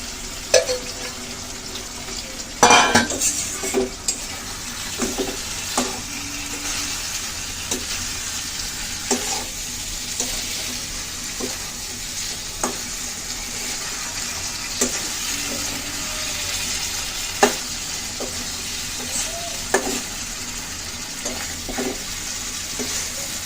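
Koi fish going into a pan of spiced curry and frying, with steady sizzling and repeated stirring scrapes and clinks across the whole stretch, close and moderately loud, and no talking.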